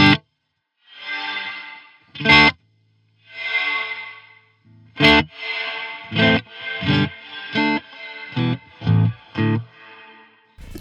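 An electric guitar runs through a JST Toneforge Disruptor djent amp sim with reverb, playing a few distorted chords and swells that ring out, then a string of short, punchy chugged hits in a rhythmic pattern, loud and close.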